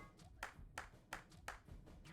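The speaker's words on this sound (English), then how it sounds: "You clapped your hands, right?" Four evenly spaced, quiet hand claps in the video game Virtue's Last Reward, crisp single claps over a faint background.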